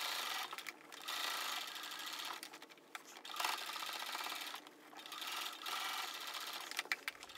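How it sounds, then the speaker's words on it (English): A sewing machine runs top stitching around the top edge of a tote bag, a continuous close whir broken by a few brief pauses, with no voices. "I finished sewing around the top of the bag"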